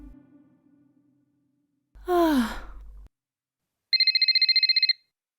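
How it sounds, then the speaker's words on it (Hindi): A telephone at home rings in a steady high electronic trill lasting about a second, heard alone after a sigh-like breath. "मम्मी का फोन बज रहा है"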